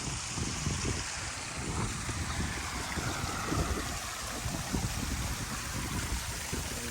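Waterfall spilling into a backyard DIY koi pond, a steady broadband rush of falling water with a low churning splash, close and continuous throughout without pause.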